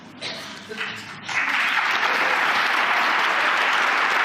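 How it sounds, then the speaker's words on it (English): An audience breaks into applause, starting with a few scattered claps and swelling after a second into sustained, dense clapping that carries on loudly to the end. "and they're applauding. They're applauding."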